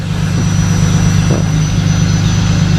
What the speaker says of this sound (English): I just started the truck to let it warm up.